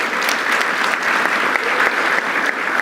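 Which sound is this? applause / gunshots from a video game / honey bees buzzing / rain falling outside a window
applause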